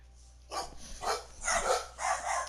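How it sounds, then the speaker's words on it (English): Several dogs bark indoors in a house, a rapid series of four or five yapping bursts at moderate distance, fairly quiet and with no talking over them. "somebody must have knocked on my door because my dogs are barking"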